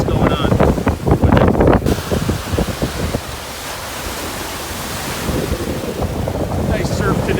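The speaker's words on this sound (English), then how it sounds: "Nice surf today." Ocean surf washes onto the shore at a beach where stones are collected, with loud rushing waves and heavy wind buffeting the microphone, plus some close handling noises at the start.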